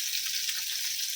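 Fish sizzles steadily in hot oil in a pan, a soft continuous hiss with faint crackle throughout, for a Katla fish curry with black cumin, mustard and green chilli.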